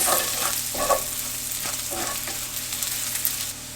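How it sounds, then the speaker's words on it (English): Garlic sautéing in a pan for a spinach artichoke dip, a loud, close, continuous sizzle with a few soft stirring scrapes, no talk. "We're gonna add in our garlic. This just needs to cook for about 30 seconds."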